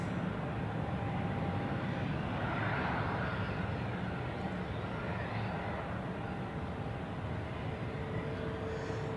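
Steady, distant airliner engine roar from an Air Canada jet at Zurich Airport, a broad constant rumble holding at even level throughout with no voices.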